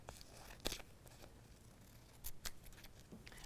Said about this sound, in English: just use a pair of scissors to trim around the edges